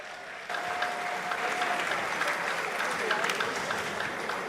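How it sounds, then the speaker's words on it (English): An audience at the 2024 NSMQ televised school science and maths quiz grand finale bursts into loud, sustained applause that starts abruptly and fills the large hall, with cheering voices mixed into the clapping. "Give ourselves a round of applause one more time."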